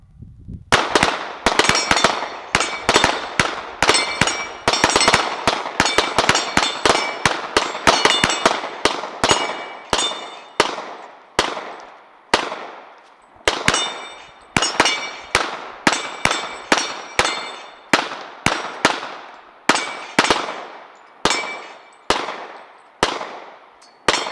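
Rapid gunshots ring off AR500 steel dueling tree targets, a long sequence of sharp metallic clangs and pings in quick bursts with short pauses, loud and close, with no talking.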